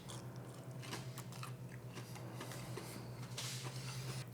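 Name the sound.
biting into crunchy breaded chicken katsu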